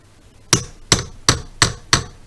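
A small hammer gives five sharp metallic taps to a part of a VW T3 CT engine during a rebuild, evenly spaced and close, each ringing briefly before the next.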